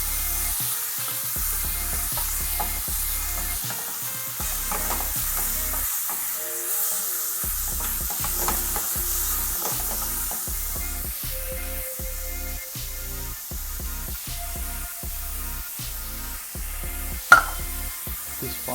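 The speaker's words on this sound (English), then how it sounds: "we need to fry them off, so it has to be very light, medium heat that we are going to fry this off" Ingredients frying over medium heat in a pan for Sri Lankan pepper beef, a soft continuous sizzle broken by repeated rhythmic stirring scrapes, close by and without talk.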